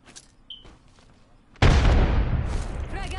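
A frag grenade goes off in the video game Apex Legends: a sudden loud blast breaks a near-quiet stretch and rolls into a long, noisy rumbling decay.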